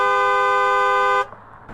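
A voice imitates a car horn with one loud, sustained, steady honk lasting just over a second, cutting off abruptly into quiet.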